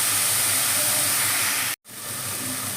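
Carrot sizzling in a hot pan while egg bhurji is cooked, a steady close hiss and crackle of frying that holds throughout with a brief gap of silence near the end.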